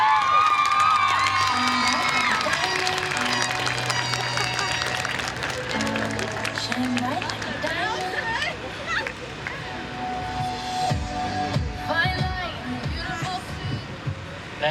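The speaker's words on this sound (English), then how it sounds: "Let's give her a round of applause." A high school graduation audience claps and cheers in a large hall, a sustained blend of applause, shouts and crowd babble, with background music and voices mixed in throughout.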